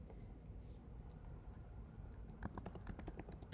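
Quick bursts of keystrokes on a computer keyboard, clattering rapidly near the end after a quieter stretch, close and fairly soft.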